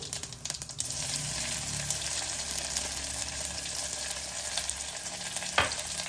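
Cumin seeds and garlic sizzle steadily in hot oil in a pan while tempering for Madras rasam, with a constant close frying hiss, a few stirring scrapes and a brief clink near the end.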